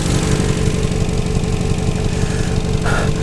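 A damaged Nissan 240 drift car engine runs at a rough, steady idle, close and loud, with a low throbbing pulse throughout and a brief higher-pitched tone near the end.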